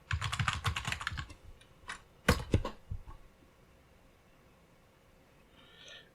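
Quick bursts of typing on a computer keyboard, a rapid run of keystrokes at the start, then a few isolated taps before fading to near silence, faint and close.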